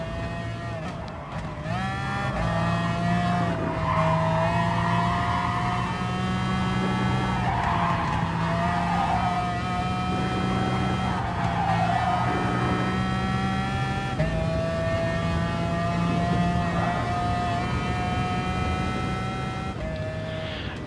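A race car in the video game Gran Turismo Sport sweeps through turns, its engine holding a steady, high-revving whine with shifting pitch and occasional tire squeal, loud and continuous with no talking.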